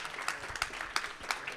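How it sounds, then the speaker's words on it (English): Scattered clapping from a small audience at a live artist talk at Moderna Museet, uneven and moderately loud, with individual claps standing out. "Give them a warm applause"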